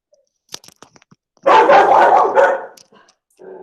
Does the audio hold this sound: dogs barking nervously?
yes